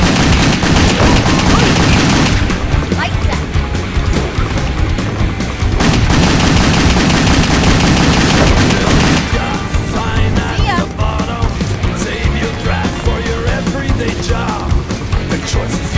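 Pistol gunfire in the video game WET during a speedrun: continuous rapid shots with sharp reports throughout, loud and dense over game noise and music, with no talk.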